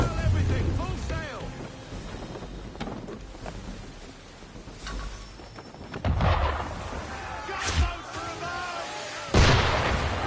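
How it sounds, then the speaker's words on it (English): Cannon fire from an enemy ship in Assassin's Creed 3 at sea, heavy booms landing at intervals, the loudest near the end, over a rumbling backdrop, with voices talking between shots. "Why is he shooting at us?"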